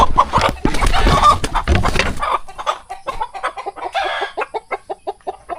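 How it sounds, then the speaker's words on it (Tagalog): A rooster about to be slaughtered for coconut-milk adobo clucks repeatedly and close up, a dense burst of calls followed by a steady run of short, rhythmic clucks. "Eto na ang aming kakatayin ngayon. Tandang na, tandang."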